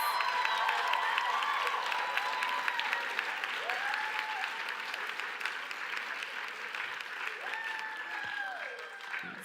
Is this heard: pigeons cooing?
no